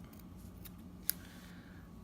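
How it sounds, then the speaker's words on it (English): Vape shears give a single quick, faint snip in an otherwise quiet room, a sharp click standing alone midway through. "these scissors, by the way, these vape shears, are fucking amazing"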